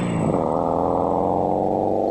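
Stan Meyer's water-powered buggy, built from a VW Beetle, runs as a steady, loud, buzzing engine drone with a distorted, synthetic edge, holding one even tone throughout.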